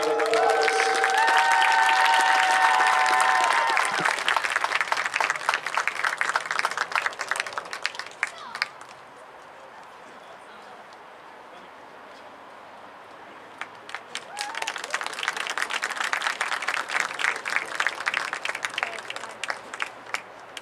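Large crowd applause and cheering fill a gym at a boys' senior night, loud and sustained, then dropping to quiet murmur before a second strong burst of clapping and cheers; an announcer's voice sits over the start.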